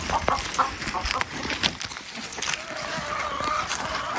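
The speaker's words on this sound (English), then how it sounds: "I know my chickens." Chickens cluck softly and intermittently nearby, with scattered short calls over a faint background murmur.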